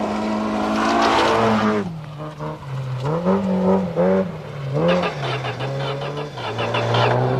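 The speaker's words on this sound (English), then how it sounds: "Håkan Eriksson was pushing the little Peugeot hard and loving every minute of it" A little Peugeot rally car driven hard on twisty tracks at the 1990 British Open Rally Championship, its engine loud and near, revving high, dropping off for bends and climbing again through rapid gear changes.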